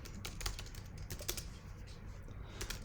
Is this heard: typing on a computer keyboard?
yes